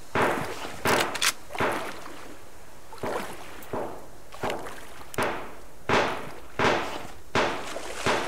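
Gunfire in the survival game Subsistence: about a dozen sharp, loud shots fired one at a time in an uneven rhythm, each ringing out briefly before the next, with no one talking.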